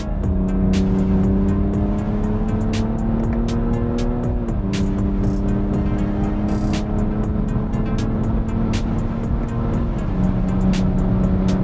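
A BMW 330d diesel pulls hard in second gear on the autobahn, its engine note climbing steadily with two brief dips as it winds up, heard from inside the car.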